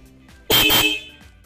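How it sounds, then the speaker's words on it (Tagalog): A Korsa disc-type car horn sounds one loud, bright, high-toned blast of about half a second, close by, with a faint hum before and after. "Low and high po yung mga busina, no? Sige, simulan natin yan sa taas. Yun yung disc type."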